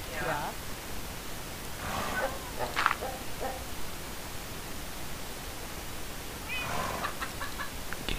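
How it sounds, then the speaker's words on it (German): Minecraft chickens give a few scattered clucks at moderate volume against a noisy game background, with quiet gaps in between. "Geh doch mal weg, du blödes Huhn."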